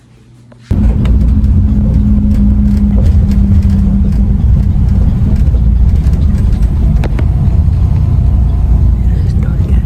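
A bus engine starts up abruptly and then rumbles loud and steady from inside the cabin, a constant low drone with faint rattles.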